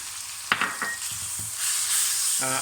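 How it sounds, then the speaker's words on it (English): Garam masala, coriander, chilli and salt sizzle in a hot pan for a saffron chicken korma, with a few soft clatters as spices drop in and a steady frying hiss that swells toward the end. "now that the garam masala is fried off, in goes our coriander, our chilli and our salt"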